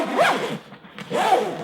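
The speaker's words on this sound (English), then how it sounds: "And zip that back up" A zipper is drawn closed on a Kuryakyn XKürsion XS motorcycle bag in two quick, close, crisp strokes separated by a short pause, with no voices.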